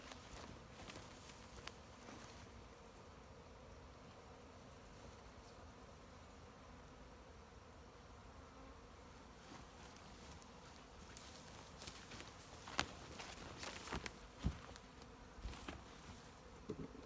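A honeybee swarm drones in a steady, faint buzz throughout, with occasional clicks and knocks near the end.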